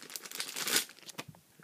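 Plastic bag packaging from a trading card mailday crinkles in short rustling bursts, loudest in the middle and fading toward the end, with no talking over it.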